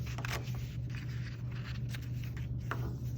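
A painted paper shape is cut out close up, with quiet scratchy snips and rustling scrapes in a fairly continuous run under a low steady hum.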